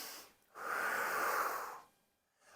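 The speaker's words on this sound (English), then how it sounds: "I started taking these deep breaths in and deep breaths out." A single deep breath, close and unhurried, rises into a full airy rush that holds for over a second, then fades into quiet, with no speech around it.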